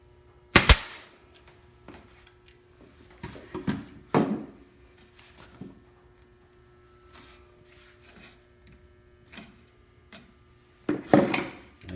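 Staple gun firing into wooden planking strips, several sharp separate snaps spaced irregularly with quiet handling between them, the loudest bursts near the start and end.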